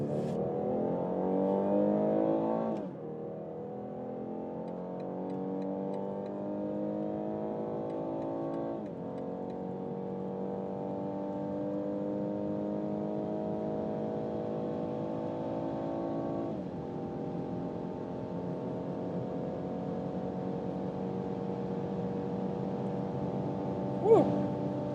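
A coupé accelerating hard in sport mode with S shifting, its engine note climbing steadily in pitch through several gears, each upshift marked by a sudden drop before rising again, heard from inside the cabin.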